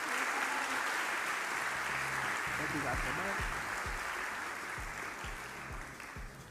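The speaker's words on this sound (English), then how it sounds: "Let's give them one more round of applause." Sustained applause from the audience at a university freshman convocation ceremony, a dense wash of clapping that carries on while a speaker talks over it, slowly fading toward the end.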